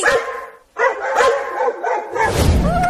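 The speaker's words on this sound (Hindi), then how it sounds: "अरे ये कुत्ते हमारे घर के पास आकर क्यों भौंकने लगे?" Cartoon dogs bark in a quick run of sharp, close barks and yips, one after another, with a brief gap partway through.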